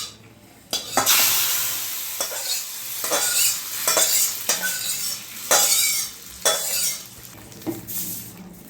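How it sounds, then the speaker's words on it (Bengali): Hot tempering of mustard oil, dried red chillies and whole cumin poured into khichdi, bursting into loud sizzling with repeated stirring and utensil clinks close by. "ভাজা হয়ে গেছে, আমি খিচুড়িতে ঢেলে দেবো।"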